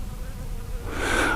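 Honeybees buzzing at a hive, a steady insect drone that swells louder toward the end, close by with no talk over it.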